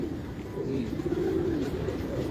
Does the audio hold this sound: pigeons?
yes